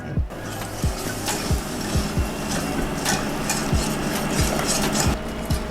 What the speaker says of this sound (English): Or actually, you pour, I'll whisk.